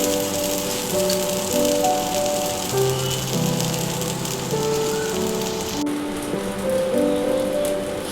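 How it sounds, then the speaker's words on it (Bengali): Flattened rice (poha) pancakes frying in a pan, a dense, continuous crackling sizzle heard close and fairly loud, like steady rain, with no talking. "দেখো এইভাবে আমরা একের পর এক ভেজে নিচ্ছি।"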